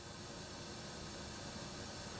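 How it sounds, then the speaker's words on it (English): Continuous pink noise from a signal generator, a steady, even hiss with no variation, filling the whole short stretch with nothing else audible. "Pink noise,"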